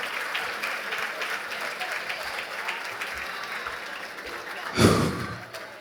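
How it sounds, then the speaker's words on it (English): An audience at a luncheon gala applauds, filling the room with dense, steady clapping that fades slightly. Near the end comes a sudden loud thump or cheer burst, and voices are faintly mixed in. "Clap it up one more time, please."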